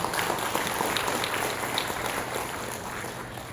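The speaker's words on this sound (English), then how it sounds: "The next, a big round of applause, ladies and gentlemen." Audience at a cooperative week award ceremony in Shillong applauding, a sustained, even wash of many hands clapping in a hall, fairly loud and continuous throughout.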